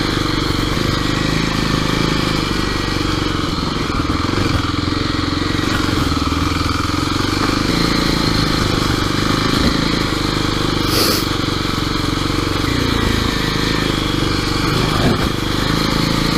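A Kawasaki KLX dirt bike on DOT knobby tires runs steadily along a highway and on dry lake-bed ground. The engine gives a continuous loud drone throughout, with no pauses.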